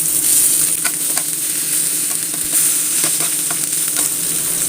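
Mackerel frying in spiced oil with curry leaves, a loud continuous sizzle and hiss with a few crackles and light stirring touches, close and steady throughout.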